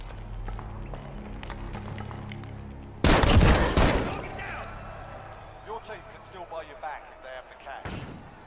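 Video game gunfire erupts in a sudden loud burst of rapid shots and impacts, then fades into scattered pops and a final sharp crack, with a voice talking throughout.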